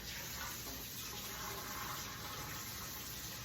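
Cold tap water runs into a kitchen sink as cherries are rinsed, a steady, close rushing stream that stays even throughout, with no talking.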